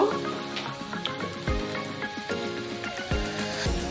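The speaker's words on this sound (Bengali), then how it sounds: "এগুলো একটু ভালো করে ভেজে নেব যাতে পেঁয়াজের বাজে গন্ধটা চলে যায়।" Onions frying in oil for a Bengali tilapia chorchori, a steady close sizzle with small crackles and pops, under a faint tonal background.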